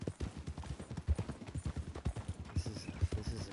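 A horse gallops in the open-world game Red Dead Redemption 2, its hooves pounding in a fast, steady clip-clop rhythm, loud and close throughout.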